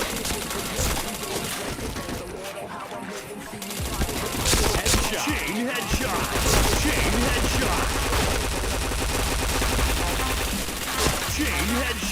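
Rapid gunfire bursts from a shooting video game, dense and continuous over a busy game soundtrack, with some talk mixed in.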